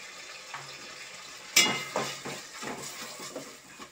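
Tomato, ginger-garlic paste and chili powder frying in a pan for mutton curry: a soft sizzle, then a sharp metallic clang and a series of scraping stirs.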